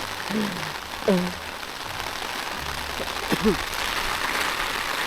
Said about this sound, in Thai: ฝนตกไม่หยุดเลย